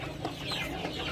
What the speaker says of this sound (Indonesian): Dan biasa kalau ayam itu yang dimakan pertama kali itu kacang-kacangannya, jagungnya tuh